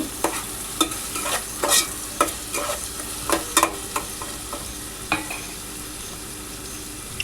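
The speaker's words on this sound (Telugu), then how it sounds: "దాన్ని బాగా మిక్స్ చేయాలి ఫ్రై చేసుకోవాలి" Chicken biryani mixture being stirred and fried in a pan, with a steady soft sizzle under repeated scraping strokes of the spoon, close and moderately loud, with no talking.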